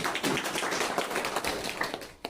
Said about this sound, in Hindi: आपका परमिशन हो तो तालियों से स्वागत करें